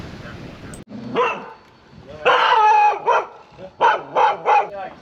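A dog barks aboard a sailboat at anchor, giving a few loud, close barks in irregular bursts with short gaps between them.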